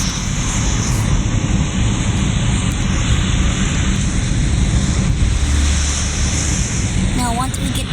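United 737 airliner engines in the Roblox game Pilot Training Flight Simulator produce a steady, loud jet roar with a high whine on top, running continuously throughout.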